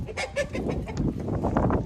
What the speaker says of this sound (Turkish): tavuklar da çok olunca